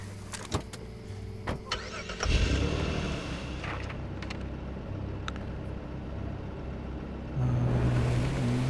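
A car engine in Far Cry 2 starts with a few clicks, then turns over and settles into a steady mid-pitched idle, revving louder near the end.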